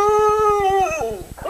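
A dog howls in a long sustained tone that wavers and falls away at the end, loud and close, over a rapid steady thumping pulse.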